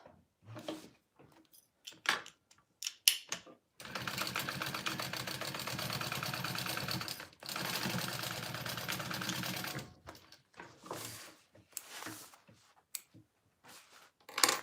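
A sewing machine runs in two long steady bursts, stitching a half-inch seam on the lining of a mini backpack, bracketed by short clicks and handling noises of fabric and clips.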